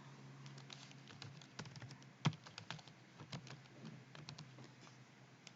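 Quiet, steady typing on a computer keyboard as a resident registration number is entered into payroll and tax software, with dense close key taps and one sharper keystroke partway through, no talking.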